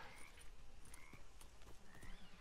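Hooves clip-clop and a horse whinnies in Red Dead Redemption 2 gameplay, a few rhythmic hoof strikes under a short neigh, fairly quiet, with outdoor ambience.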